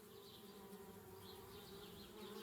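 Bees buzzing around a tree house in the video game Anna's Quest, a faint, steady droning hum with wavering pitch, continuous and without speech.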